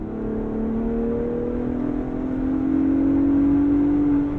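The turbocharged engine of a Ford Bronco Raptor drones steadily and rises in pitch as it accelerates and boost builds, heard loud from inside the cabin with no talking over it.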